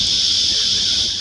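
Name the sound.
cicadas on the east coast of Australia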